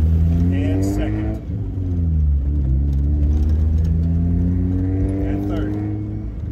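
Manual-transmission car driven by a learner, engine revving up through a gear with a rising whine, a brief dip at the shift, then climbing again, loud and close from inside the cabin.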